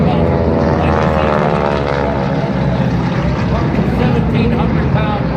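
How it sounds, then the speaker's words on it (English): Propeller aircraft droning loudly and steadily overhead, a Val dive bomber flown at a Tora Tora Tora reenactment of the December 7, 1941 attack, with someone talking underneath. "Then came the Val dive bomber, like you see"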